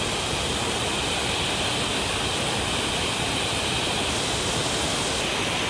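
Alibana Falls waterfall pours as a steady, dense wash of broadband rushing water, constant and fairly close throughout, with no voices over it.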